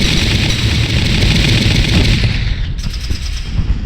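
Dense, continuous gunfire from the video game Valkyria Chronicles, with loud, sustained automatic bursts that fill the whole stretch at close range.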